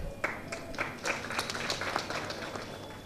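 Audience applause at a homeopathy lecture, a short burst of dense, steady hand clapping from a seated crowd lasting about three seconds.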